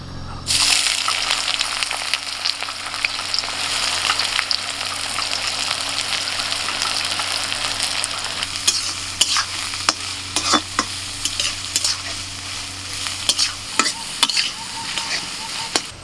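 Onions dropped into very hot ghee and oil in a kadai, a sudden loud burst of sizzling that holds steady and close, then fades into scattered pops and stirring clatter near the end.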